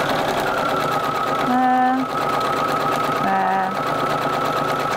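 A sewing machine stitches veins onto a fabric poinsettia pot wrap, running in a continuous close motorized whir with two brief pitch shifts as it speeds up, with someone talking over it.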